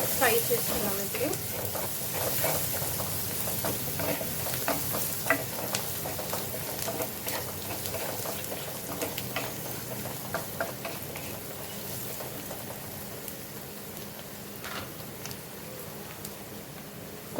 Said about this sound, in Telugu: ఈ మసాలాస్ అన్నీ ఫ్రై చేసుకున్నాం.